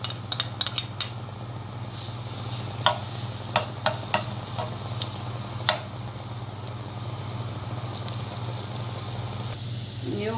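A little oil sizzles steadily in a pan for shish barak with meat, with a few sharp clinks of utensils early on and scattered louder ticks over the continuous hiss, with no talking.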